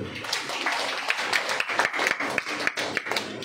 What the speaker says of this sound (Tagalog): Palakpak po kay Lord.